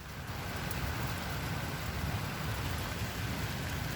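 Rain falls steadily as a dense, even hiss with a low rumbling undertone, loud and constant throughout, with no voices.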